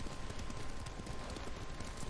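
Horse hooves clip-clopping while riding in the video game Ghost of Tsushima, a steady rapid patter of hoofbeats blended into dense background noise, moderately loud.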